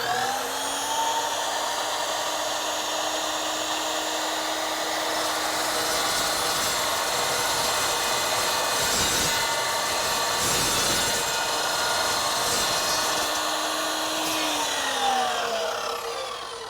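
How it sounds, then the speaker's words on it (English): An Evolution EVO SAW 380 steel chop saw runs up with a whine, bites through steel with a harsh grinding rasp that deepens midway, then winds down as the blade spins free. "now I'm going to start it, and we're going to cut through this"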